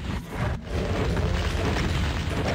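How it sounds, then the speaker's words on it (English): Game explosions in a Doom WAD boom out in a dense, low-heavy rumble, with a sharp burst near the start giving way to sustained roaring noise throughout. "There's two explosions."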